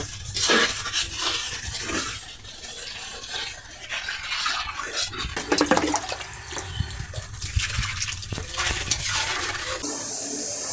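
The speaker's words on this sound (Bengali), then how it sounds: "এখন আমি ঝোল দেব" Broth poured into spiced potatoes in a pot, with a loud gushing, splashing rush of liquid followed by bubbling and stirring sounds up close.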